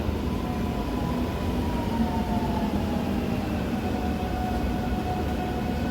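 A train rumbles along steadily and fairly loud, with a constant low roar of wheels on rails and faint tonal squeals running through the whole stretch.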